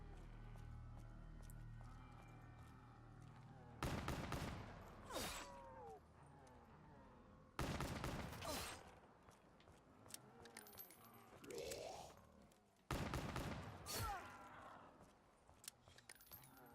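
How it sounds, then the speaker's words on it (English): Gunfire at zombies in Black Ops 3 Zombies, with three loud bursts of shots spaced a few seconds apart over quieter game noise. "I usually try to separate the zombies when I shoot them just so I know for sure how many bullets I've put into them"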